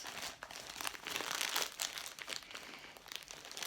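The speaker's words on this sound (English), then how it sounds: "pull apart the Ziploc bag" A plastic Ziploc bag is pulled apart, its close, continuous crinkling and crackling running steadily throughout with small sharp crunches along the way.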